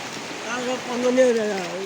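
Fast floodwater rushes past in a steady broadband roar near a village, while someone talks over it throughout.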